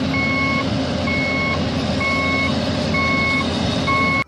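Reversing beeps from a toy truck carrying an excavator: five evenly spaced electronic tones pulse loudly and steadily over a constant mechanical hum.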